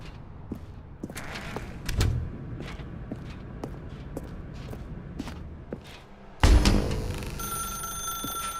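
A telephone in The Stanley Parable: Ultra Deluxe starts ringing abruptly after a stretch of scattered footsteps and soft thumps in a quiet room, its bright electronic tone continuing steadily to the end.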